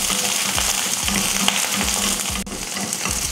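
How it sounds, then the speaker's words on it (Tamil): Garlic and onion sauté in a couple of spoons of oil in a kadai, a dense steady sizzle close by, broken by a rhythmic series of low scraping stirs with no talking. "இதை வதக்கிடலாம்."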